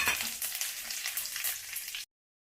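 Cardamom, cloves, cumin and bay leaf fry in hot ghee and oil, giving a loud, dense, continuous sizzle that cuts off abruptly into silence near the end.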